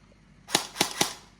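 A Double Bell HK416 toy gun, model DB0812, fires three sharp, snappy shots in quick succession about a quarter second apart, close and crisp against a quiet background.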